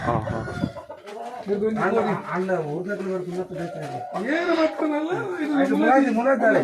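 Chickens cluck and a rooster crows loudly close by on a farm, the calls overlapping in a busy, continuous stretch while people talk nearby.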